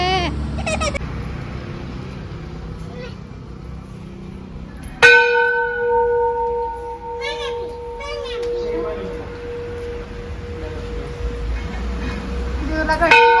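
A metal temple bell at a Hindu shrine in Hinjewadi is struck once with a loud clang, and its ringing tone holds and slowly fades. Children's voices and chatter can be heard before and around it.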